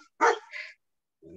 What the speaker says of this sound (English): my dogs are barking at whatever